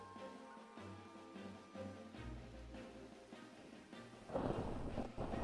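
Thunder rolls during a storm in the video game Minecraft, a faint, low rumbling that swells and builds toward a louder crack near the end, with no talking.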